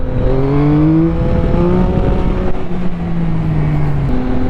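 A Yamaha MT-09 SP naked motorcycle engine revs under throttle, its tone climbing and dropping in repeated pulls, loud and close with no one talking.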